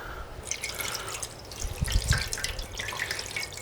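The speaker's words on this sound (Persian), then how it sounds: "خب حالا با اون پارچ لطفا آب بیشتری بریزید" Water poured from a pitcher in a kitchen, with a splashing, trickling stream that swells louder midway and carries on alone.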